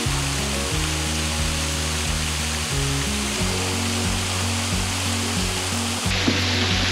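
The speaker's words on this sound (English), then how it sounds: "Just beautiful waterfalls all the way down." Waterfalls pour down a long rock cliff at Rock Island State Park, a loud, steady broadband rush heard up close from a canoe, unbroken throughout with no voices.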